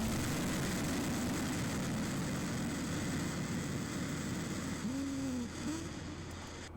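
A rocket engine test firing makes a steady, broad, rumbling roar from a distance that stays even throughout and fades slightly at the end, with no talking over it.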